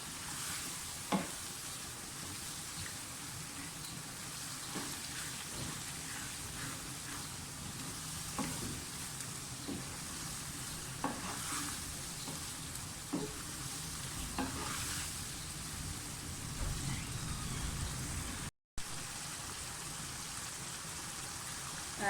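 Keema masala mince with red chili powder, garam masala and turmeric stirred and fried in a pan; a steady close sizzle runs throughout, broken by repeated scraping spoon strokes, with no talking.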